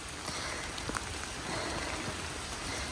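Steady rain falls across a hiking trail on the Appalachian Trail in Virginia near Beech Mountain Road, a dense, even patter of drops close by with no voices.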